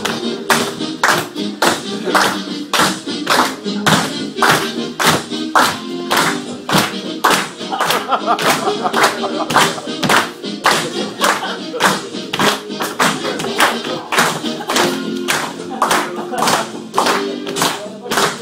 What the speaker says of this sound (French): Je demande d'applaudir le jingle Gilles Simon.